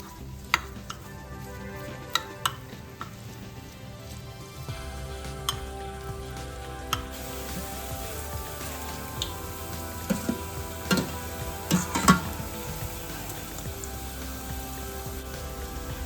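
Broccoli stir-frying in a pan with curry leaves: a soft continuous sizzle under scattered clicks and scrapes of a spatula stirring, growing a little denser midway, no talking.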